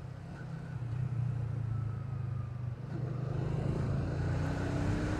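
A slow, heavily loaded dump truck holds up a traffic jam on a road in East Java toward Lumajang, Dampit and Turen. A deep, steady engine rumble with idling traffic drones continuously nearby.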